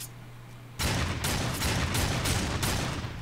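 Sudden loud weapon fire in Darksiders 2 begins after a quiet hum, followed by a rhythmic series of about five heavy shots with no talking.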